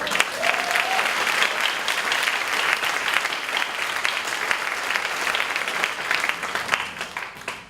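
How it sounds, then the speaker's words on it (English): Loud, sustained applause from a large audience at a literary festival event, dense and continuous for the whole stretch, with scattered whoops over the clapping. "I don't think I've ever had so much applause with an event yet to start."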